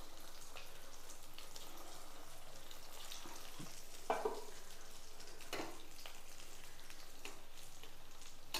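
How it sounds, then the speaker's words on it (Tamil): Four vegetable kofta balls deep-frying in oil in a kadai over a medium flame make a soft, steady bubbling sizzle with a few small pops, fairly quiet and without speech. "நம்ம கிரேவியில் போடுறதுக்கு உருண்டையை பொரிச்சு எடுத்துடலாம்"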